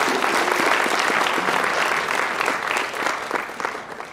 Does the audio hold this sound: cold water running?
no